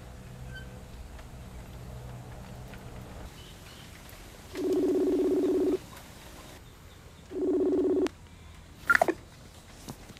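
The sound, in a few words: telephone call being dialed, ringing unanswered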